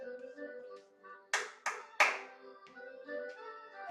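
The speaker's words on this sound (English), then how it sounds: "Stepping forward with 3 claps." Three sharp hand claps in quick succession, spaced about a third of a second apart, standing out over a soft instrumental folk tune as part of an elders' dance pattern.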